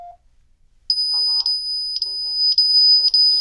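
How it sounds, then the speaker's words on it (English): A 2GIG Edge security alarm panel goes off with loud, piercing beeps repeating in a steady pulse right after a short tone, while a person talks underneath. "This is what an alarm would sound like if somebody were to break in or open up a door sensor while your system is armed"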